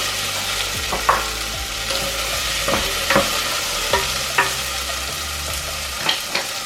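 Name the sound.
carrots added and stirred into potatoes in a pan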